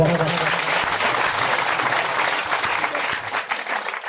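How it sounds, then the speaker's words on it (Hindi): A crowd applauds steadily, a dense wash of clapping that carries on without a break. "इनका तालियों से जोरदार स्वागत।"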